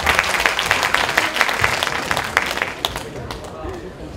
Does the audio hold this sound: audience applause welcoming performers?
yes